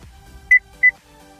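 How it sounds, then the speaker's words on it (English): Two short electronic beeps from a Cadillac Escalade key fob during programming, each a clean tone, evenly spaced about a third of a second apart, close and clear over near silence. "And you heard that beep."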